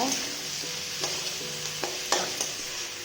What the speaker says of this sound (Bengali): আদাটা একটু নাড়াচাড়া করব